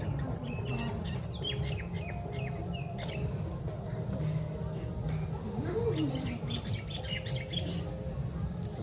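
Busy bird chirping fills the background, quick tweets scattered throughout over a low steady hum, with insects faintly present.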